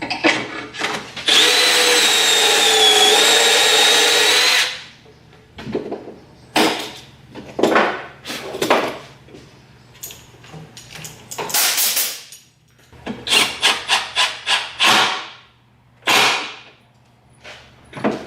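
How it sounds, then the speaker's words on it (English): Power drill drilling pocket holes in wood, whirring in a long steady burst, then a series of short, sharp drilling spurts with brief pauses between them. "Now, we'll drill the other pocket holes."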